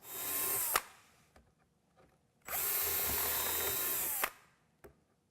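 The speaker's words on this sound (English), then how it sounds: "Drill clearance holes between the biscuit slots." A power drill whirs loudly in two sustained bursts, each a couple of seconds long, drilling clearance holes in wood, with quiet pauses and small clicks between them.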